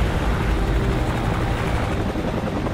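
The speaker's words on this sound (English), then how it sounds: "Okay, helicopter." A military helicopter in the Xbox 360 game Call of Duty 4: Modern Warfare, a loud, close, continuous rotor roar with a dense rumbling drone and no voices.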